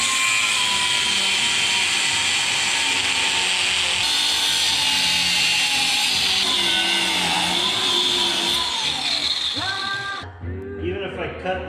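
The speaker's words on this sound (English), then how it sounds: "I'll go get a bigger grinding disc, and I'll grind one side flat" An angle grinder with a large grinding disc grinds a shock absorber shaft flat on a Smart car, a loud, steady, high-pitched whine holding for about ten seconds before cutting off into quieter clatter.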